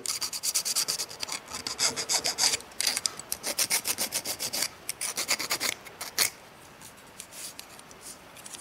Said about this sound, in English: round off sharp edges here. Get all the burrs off.